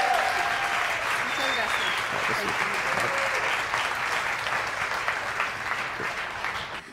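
An audience applauds a singer at a family worship concert, a dense, steady wash of clapping that holds for several seconds and tapers slightly at the end, with no voices on top.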